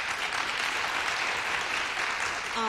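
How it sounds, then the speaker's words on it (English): An audience at a Buffalo Public Schools speaking contest gives a round of applause, an even, sustained wash of many clapping hands at moderate volume. It continues steadily with no break. "if we can give her a nice round of applause"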